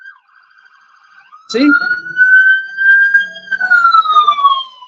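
A police or emergency vehicle siren wails loudly and close, a single rising and sustained tone after a brief opening, with a short spoken word near the start.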